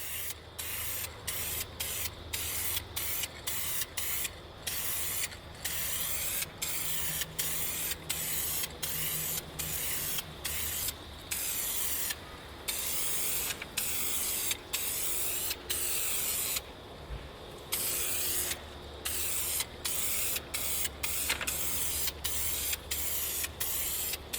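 Dupli-Color vinyl and fabric spray can painting a car seat: a close, steady hiss of spray coming in many short, evenly repeated bursts with brief gaps between them, with no talking.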